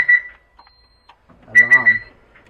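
A car's alarm sounds on starting the engine, giving repeated shrill beeps in two short bursts with a pause between them, close and loud, while someone speaks briefly in the gap.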